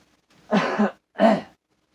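Two short, rough throat-clearing coughs close to the mic, one after the other, in an otherwise quiet room.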